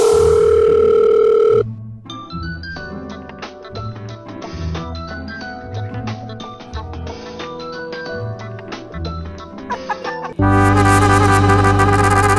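A telephone dial tone hums steadily at the start of a call in a comedy skit, then gives way to loud music before the tone returns.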